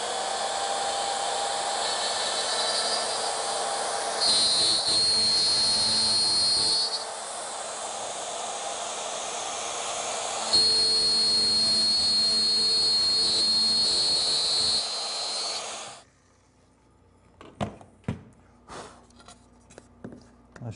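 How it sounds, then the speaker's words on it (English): A wood router cutting along a fence in a cabinet-building shop, a loud steady whine in two long passes with a short pause between, then the motor winds down and leaves a few clunks. "So the router will go route from there to there, stopping, and from there to there, stopping."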